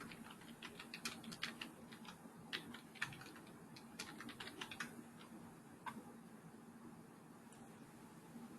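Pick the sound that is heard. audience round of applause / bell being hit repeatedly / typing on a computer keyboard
typing on a computer keyboard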